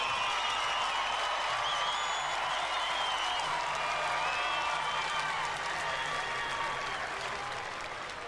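A large crowd in a stadium at a state championship game applauds the two teams with a broad, steady roar of clapping and cheering that stays fairly distant and eases slightly toward the end.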